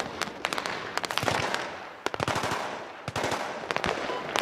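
Heavy automatic gunfire in the Battlefield 3 military shooter, with loud, rapid bursts of shots that stop briefly and resume, close and punchy with no talk over them.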